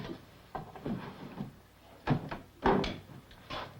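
A wooden drawer is pulled open to get a shaving brush and mug, with a quiet run of knocks, scrapes and clunks in a room.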